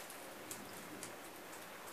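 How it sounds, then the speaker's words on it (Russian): Snow or hail-like pattering on a greenhouse on a frosty night, a steady soft dense rustle with faint scattered ticks, quiet and continuous with no voices. "Слышите, шебуршит, как град какой-то."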